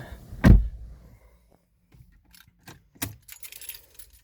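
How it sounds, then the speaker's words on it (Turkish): Keys to an Alfa Romeo car jangle close up in a loud burst, then give a few lighter clinks and rattles that fade into quiet handling. "Aracımızın anahtarı şu şekilde."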